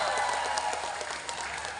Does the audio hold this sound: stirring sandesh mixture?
no